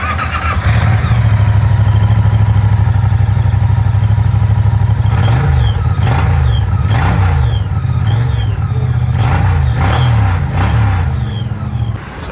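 A Moto Guzzi V100 Mandello S motorcycle engine idles loudly up close, then is revved repeatedly in sharp bursts that rise and fall.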